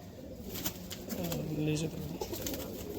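A domestic pigeon coos nearby in a low, throaty rolling call, heard over faint background noise with a brief flutter.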